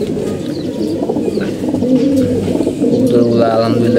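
Male pigeons perched together, a dense layered run of low throaty cooing and burbling that carries on without pause and grows slightly louder toward the end, with faint chirps mixed in.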